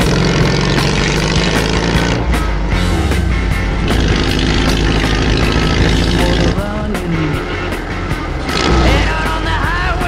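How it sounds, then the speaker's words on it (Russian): Homemade electric water bike built as a catamaran running on water, a steady loud motor whine and water rush throughout with no pauses. "Поедем пробовать наш водный велосипед."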